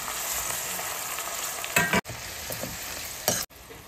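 Tomato pieces and green chillies fry in hot oil for a chicken curry with ridge gourd, a steady close sizzle broken by two loud bursts of stirring and spattering.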